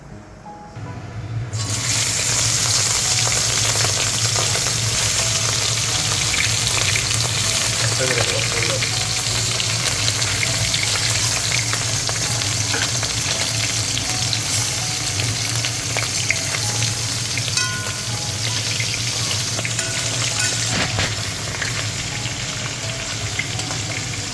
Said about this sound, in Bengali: মাছগুলোকে লাল লাল করে ভেজে নিচ্ছি